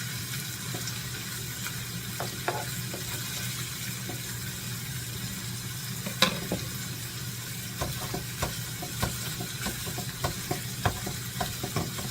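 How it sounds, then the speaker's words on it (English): Ground meat for sloppy joes sizzles steadily in a pan while a utensil breaks it apart, with a constant close frying hiss broken by scattered scraping and tapping clicks. "Now I'm just breaking apart the big pieces of meat so they're nice and crumbly."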